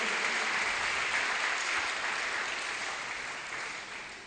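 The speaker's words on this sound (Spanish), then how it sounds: "Aplaudamos al Señor" A church congregation breaks into sustained applause, a thick even roar of many hands clapping together that slowly tapers off toward the end, with no voices over it.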